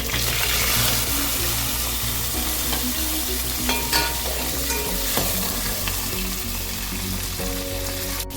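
Onion, garlic and green chillies with dried chillies frying in a pan for dried shark curry, sizzling steadily and close, with repeated scraping stirs and a few light clinks of the utensil.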